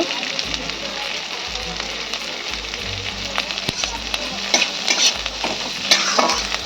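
Diced onion fries lightly in a pan for a street-style chicken Mughlai paratha, a steady close sizzle with scraping stir strokes growing louder toward the end.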